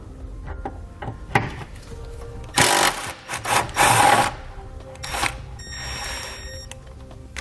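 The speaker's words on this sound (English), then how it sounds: "using that 13mm socket, we'll pull that bolt out." A 13mm socket on a ratchet backs a bolt out of an exhaust hanger under a 2014 Dodge Grand Caravan minivan, with rapid ratcheting bursts and metallic clicks, close and fairly loud, with no talk.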